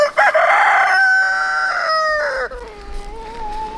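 A backyard rooster crows once, loud and close, a long drawn-out call in a chicken run, with wind noise rumbling underneath toward the end.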